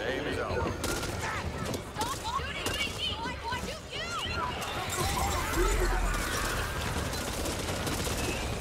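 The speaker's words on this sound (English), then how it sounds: "Stop shooting me!" Rapid gunfire from the co-op zombie shooter Back 4 Blood, dense overlapping bursts and shots running throughout at a steady loud level, mixed with game noise and voices talking over the action.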